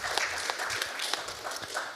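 An audience applauding at an international symposium on Europe, a dense steady patter of many hands clapping at close range through the whole short stretch.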